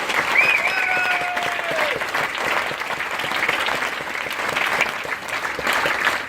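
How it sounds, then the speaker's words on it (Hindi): A hall full of people applauds vigorously at an Amway India speech event honoring a new Emerald achiever, steady, loud clapping with a little crowd murmur throughout. "If you are seeing yourself on the stage, clap as hard as you can today."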